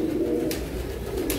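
Paired pigeons coo in a low, close, steady murmur, with soft rustling or flutters over it.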